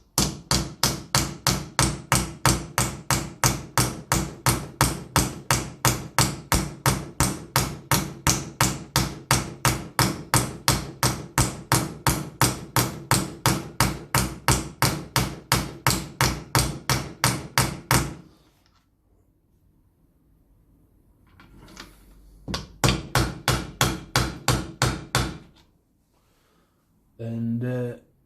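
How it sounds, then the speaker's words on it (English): Rapid, steady metallic hammer blows ring out for a long run as an injector shroud is driven into a Land Rover Series 3 2.25 diesel engine, then stop briefly before a few more bursts of quick strikes follow. "I was listening for a change of tone as I'm hammering it in"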